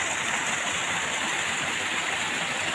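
A small river stream runs in a steady, dense rush of water, close and continuous with no pauses or voices.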